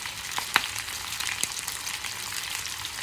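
Porterhouse steak searing in a pan over very high heat, seasoned with real salt, giving a steady close frying hiss with a few sharper pops and crackles.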